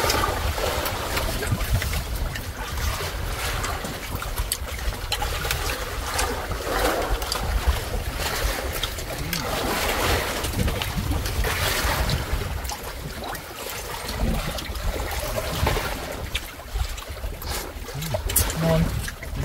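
A small wooden outrigger boat rides ocean waves at sea in the Philippines, taking on water, with a steady broadband wash of water and hull motion throughout. There is some faint talk underneath.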